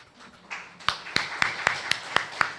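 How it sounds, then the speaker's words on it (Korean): Applause at a lecture, heard as a steady run of sharp claps that build after a brief quiet start and continue evenly, fairly close and moderately loud, with no talking over them. "박수 한번 보내주십시오."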